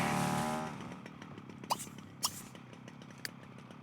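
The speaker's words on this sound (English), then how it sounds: "he's at it again with a chainsaw" A chainsaw in The Sims 3 video game snarls loudly at first, then drops to a steady buzzing drone with a few sharp revving spikes, heard alone without talk.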